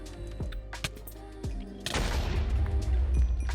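Rapid bursts of explosions from GregTech New Horizons, the Minecraft modpack, set off beside a power setup, with sharp thuds building into a dense, loud rumble of blasts.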